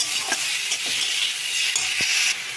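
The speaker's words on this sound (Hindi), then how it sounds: "सिर्फ जीरा और अदरक का पेस्ट है, वो हाफ चम्मच की तरफ हम दे देते हैं और इसे अच्छी तरह से हम फ्राई कर लेते हैं।" Cumin and ginger spice paste frying and being stirred in a pan, a steady close sizzle with a few scraping stirs, no talk.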